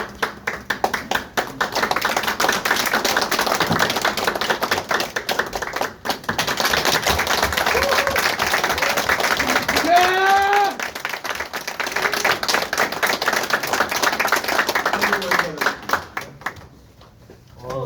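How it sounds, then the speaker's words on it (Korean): An audience claps after a speech at a Korean political endorsement event, steady close applause filling the room for several seconds before thinning out near the end, with brief voices mixed in. "박수."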